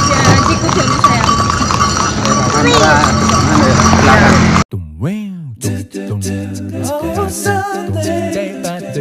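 Horse hooves clip-clopping at a light festival park in Cepu, Blora, with rhythmic steps under loud crowd noise, then a sudden switch to music and close talk.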